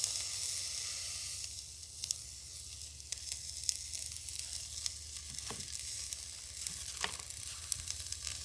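Cracklins fry in hot hog grease, rendering lard for cornbread: a soft, steady sizzle with scattered pops and crackles, close and fairly quiet, with no talking.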